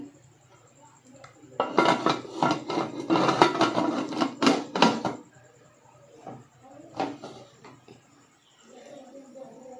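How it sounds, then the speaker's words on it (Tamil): A pressure cooker lid is fitted on with a dense run of close metallic clanks and scrapes lasting a few seconds, followed by a few scattered knocks and light handling noises. "இப்போ வந்து குக்கரை மூடியை போட்டுக்கிடலாம்"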